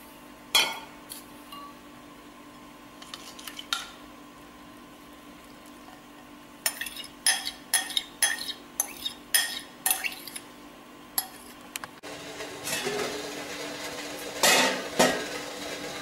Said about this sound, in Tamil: இட்லி சட்டி ஆவியில் வைக்க போகிறேன்.